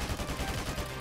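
Rapid bursts of gunfire from a competitive video game shooter, dense and continuous across a short stretch, fairly loud with no talk over it.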